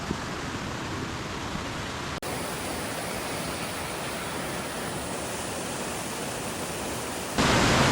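Eddy Falls waterfall in the Boundary Waters wilderness, a dense, continuous roar of rushing water heard up close, steady throughout with a brief dropout and a slight rise near the end.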